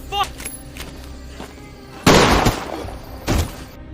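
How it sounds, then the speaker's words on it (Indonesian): Gunshot in a horror film scene: sharp loud bangs, the main blast about halfway in followed by a second crack near the end, set against a dark, quiet film soundtrack. "Sebuah tembakan dari seorang temannya berhasil menghentikan Johnny"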